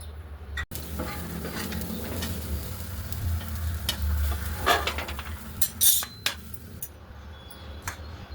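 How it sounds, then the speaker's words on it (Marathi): Dry chickpeas rattle and sizzle on a hot griddle while being stirred, with scraping and occasional clinks of a utensil against metal. "तर सर्वप्रथम आपण हरभरे छान तव्यावर भाजून घेऊ"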